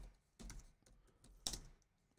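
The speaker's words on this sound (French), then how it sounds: "je n'ai pas encore bien l'habitude de mon clavier de gamer avec des petites couleurs partout" Keys clack on a gaming keyboard with colourful backlighting in two short bursts of quick, close, quiet keystrokes separated by a pause.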